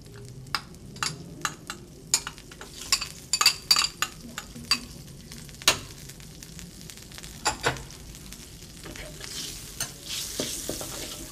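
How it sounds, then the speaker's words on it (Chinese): Curry paste frying in melted butter for a vegetarian baked potato dish, a steady soft sizzle broken by frequent spatula scrapes and light clinks of the pan, close and fairly quiet with no talking. "我们可以先把咖喱酱爆香"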